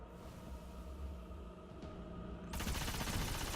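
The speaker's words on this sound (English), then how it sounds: "Just shoot something down here real quick." The Necrochasm rifle from Destiny fires a fast automatic stream of shots, the rattle swelling louder and denser partway through over a low rumble.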